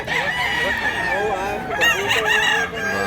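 A rooster crows loudly and close by in Mantalungon, Cebu, a long strained cock-a-doodle-doo with clucking fowl around it.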